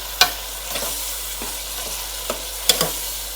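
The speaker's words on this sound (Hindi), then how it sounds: "इसको मिक्स करते हैं सब इंग्रेडिएंट्स को" Marinated chicken is stirred with other ingredients in a frying pan for Indian-style chicken macaroni, a soft steady sizzle broken by a few sharp scraping and clinking strokes of the spoon.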